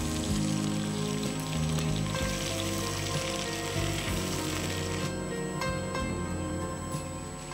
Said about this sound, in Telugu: బిర్యానీ ఆకు షాజీరా ఆనియన్స్ వేసారు